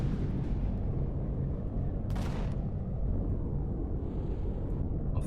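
Turrets firing in Empyrion Galactic Survival, a low rumbling barrage of booming shots that rolls on continuously, with one sharper burst in the middle.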